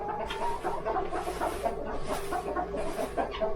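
Chickens clucking steadily inside a winter coop, a dense flock of overlapping clucks and murmurs close by, with no talking.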